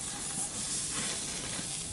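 Shrimp sizzling on an outdoor barbecue, a continuous close hissing sizzle at moderate level with no voices.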